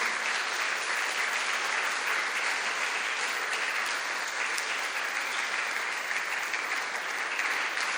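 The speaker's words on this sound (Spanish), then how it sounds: "Dale un aplauso al Señor." Steady, sustained applause from a large church congregation during a sermon, dense clapping filling the whole stretch at an even level with no pauses.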